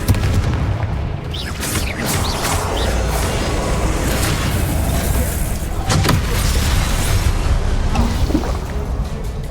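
Blasting-spell explosions from the Hogwarts Legacy video game boom amid combat, loud low rumbles with a couple of sharp bursts standing out over a busy, continuous game soundtrack.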